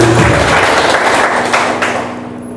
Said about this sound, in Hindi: दिल से ताली बजाओ जरा, तेज मजा आए कुछ। माँ बाप के लिए ताली बजा रहे हो।